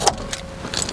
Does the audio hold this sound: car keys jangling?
yes